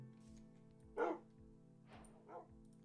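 A dog in the Minecraft video game gives three short, quiet barks in quick succession over a soft, steady game tone, with no talking.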